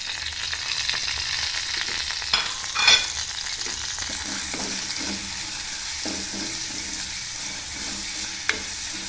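Ingredients for a Sri Lankan dal curry frying in a little coconut oil, a steady close sizzle with stirring scrapes and a brief louder burst near the start, no voices.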